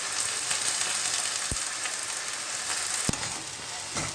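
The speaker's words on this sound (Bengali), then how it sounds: "এবার এটা একটু ভাজা ভাজা হবে।" Soaked broken rice (khud) fries in a pan with a continuous soft sizzle, punctuated by a few sharp scrapes and knocks of a spatula stirring it, close and moderately quiet.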